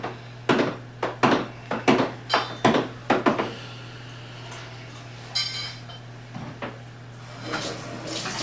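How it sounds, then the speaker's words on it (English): A spoon stirs a Cooper's Mexican Cerveza beer brew mixture in a plastic fermenter, giving a quick run of sharp knocking scrapes against the vessel followed by softer sloshing and clinks, close and fairly loud. "I'm just going to give it a quick stir, just to mix now all that new water back in."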